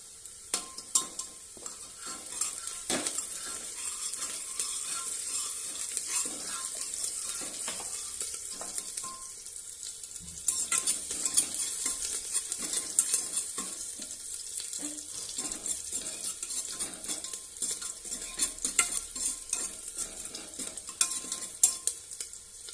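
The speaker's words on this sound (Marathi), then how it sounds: "आता याला नाही का हलकं ब्राऊन करून घ्यायचं आहे कांद्याला" Onions browning in a pan for a home-cooked rajma, with a steady close sizzle broken by repeated stirring scrapes and clinks throughout, and a brief sound of running water from a tap partway through.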